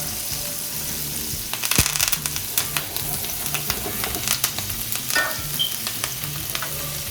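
Steak sizzling in a pan with melting butter, rosemary and thyme, a constant crackling hiss with scattered sharper pops and spatters, close and steady, no voices.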